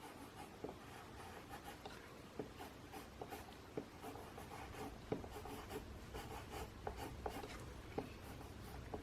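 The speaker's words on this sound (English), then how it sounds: "I'm burnishing with some stroke methods" Coloured pencil burnishing on paper while texturing trees in a forest drawing: steady soft scratchy rubbing with repeated short strokes and faint taps, close and quiet.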